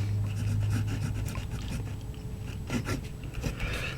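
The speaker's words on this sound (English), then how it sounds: "So let's put that nib on paper again" Broad-nib Vazir Coral fountain pen writing on paper, soft scratchy strokes in short bursts with brief pauses, close and fairly quiet.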